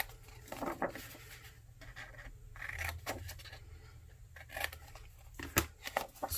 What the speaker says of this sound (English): we are going to just cut that up until the score line